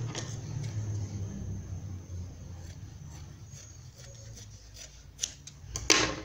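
Scissors snip through pink floral tricoline cotton fabric while a small dress skirt for a pet is cut out, a few faint, close crisp cuts over a soft low background, sharpest near the end.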